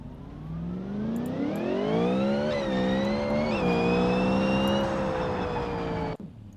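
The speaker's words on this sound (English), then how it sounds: "Definitely not a stock V8." In a BeamNG driving game, a supercharged, non-stock V8 car engine revs steadily upward in pitch, holds high with a couple of shifts, then cuts off sharply, loud and alone.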